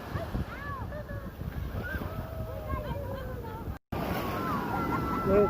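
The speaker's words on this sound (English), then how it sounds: "We're watching the waves, and it's coming up toward us right now." Ocean waves wash up a beach toward the listener as a continuous surf rush with wind buffeting the microphone. Excited voices and a child's calls ride over it, with a brief dropout partway through.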